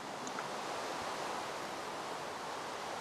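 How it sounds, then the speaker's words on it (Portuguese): Rain falls in Minecraft as a steady, even hiss of broadband noise, moderately loud and continuous without pauses. "Ah, chuva!"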